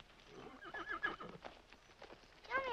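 A horse whinnies and neighs while hooves clip-clop nearby, in a 1948 Western film scene in Santa Fe, with a louder high neigh rising at the end and faint low voices beneath.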